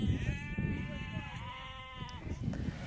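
Sheep bleat in a pen on the Falkland Islands: one drawn-out, wavering bleat of about two seconds, fairly quiet against steady outdoor rumble and background noise.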